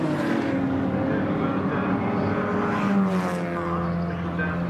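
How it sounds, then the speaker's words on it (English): Mini Miglia, Libre and BCV8 racing car engines at Silverstone drone steadily with a passing surge midway, a continuous loud engine roar with faint commentary underneath. "Look at these cars as they come streaming around Silverstone."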